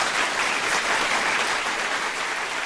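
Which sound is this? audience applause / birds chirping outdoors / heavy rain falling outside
audience applause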